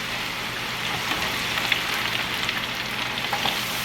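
Homemade potato fries bubble in hot oil with a loud, dense, steady hiss and scattered small pops close by, and no voices.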